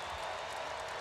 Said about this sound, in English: an appreciative crowd here at Chapel Hill